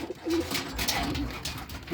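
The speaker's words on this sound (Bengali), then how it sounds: "দেখুন গিরিবাজ কবুতরটা অনেক সুন্দর এক জোড়া কবুতর" Soft, low cooing of a pair of Giribaz pigeons close by, a short run of murmuring coos.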